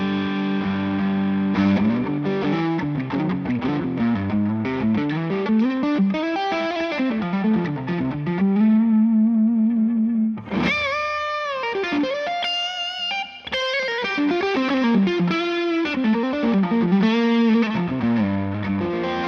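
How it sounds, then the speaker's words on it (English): A distorted PRS CE 24 electric guitar on its neck humbucker pickup plays a warm, thick riff with sustained bends and chords, pausing briefly before a brighter burst of strummed notes continues. "And then the neck position, humbucker."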